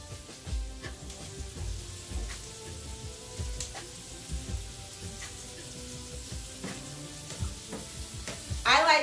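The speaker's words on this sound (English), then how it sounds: "I like my shrimp to be cooked evenly, so I cook them with tongs and turn them." Shrimp sizzling and frying in a pan while being turned with tongs, a steady soft crackle with low clattering bumps of the tongs against the pan, and a brief sharper burst at the end.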